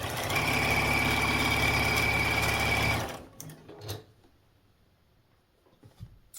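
A sewing machine stitches quilt rows of a checkerboard block in a fast, loud, even whir for about three seconds, then stops, leaving a few soft handling clicks and thumps nearby.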